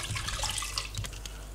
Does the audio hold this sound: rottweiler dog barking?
no